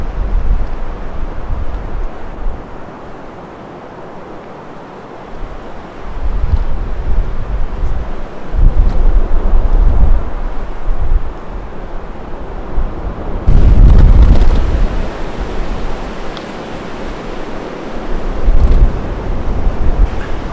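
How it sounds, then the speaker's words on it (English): Strong storm wind gusts through a forest with bending trees, heard as a broad rushing roar that swells and fades in surges for about twenty seconds, with no voices. "it's quite stormy. We have a bunch of wind gusts here that are quite strong still"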